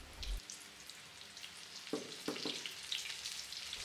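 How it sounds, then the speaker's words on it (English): Flour-dredged chicken wings drop into hot oil at 325 to 350 degrees Fahrenheit, a soft crackling sizzle with a few sharp pops and bursts, quiet and close, no voices. "Let's fry these."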